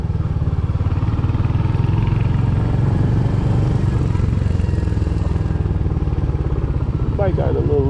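A motorcycle ridden at low speed in MSF course practice putters with a steady, close, rhythmic engine chug, and a voice speaks briefly near the end.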